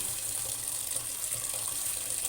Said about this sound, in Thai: ทุกอย่างเราต้องล้างให้สะอาดค่ะ ผลไม้ทุกชิ้นทุกอย่างทุกมือนี่พี่น้องเขาต้องล้างให้ดี